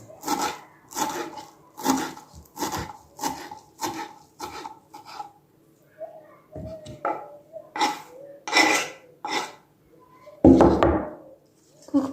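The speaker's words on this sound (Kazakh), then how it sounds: "Енді кинзамызды тураймыз." Coriander chopped with a knife on a cutting board, a close, steady run of crisp rhythmic thuds, a pause, then more quick chops and one heavier knock.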